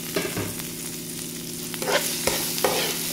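Onion and green chili sizzle steadily in hot oil in a pan with dried red chilies already in it, with a few scraping stirs of a spoon for an aratikaya fry, close and alone with no talking.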